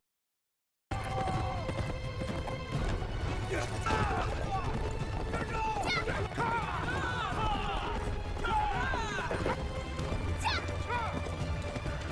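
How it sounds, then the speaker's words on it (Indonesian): Galloping horses of mounted troops giving chase in a film scene, a steady clattering of hooves with scattered crashes and a horse's whinny, continuous and fairly loud, mixed with music and voices. "Alhasil, semua pasukan berkuda mengejar Bunga"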